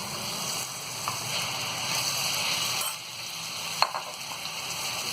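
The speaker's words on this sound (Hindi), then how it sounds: "इसी में हम ये कीमे को डाल देंगे।" Minced meat keema sizzles in a hot pan, a steady bright hiss holding throughout with a couple of faint clicks, close and moderately loud, no talking.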